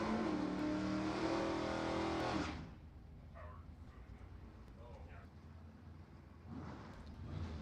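A Camaro and a Maverick drag racing car launch together at an NHRA divisional race with a loud, roaring burst that cuts off after a couple of seconds, followed by quieter crowd and announcer talk.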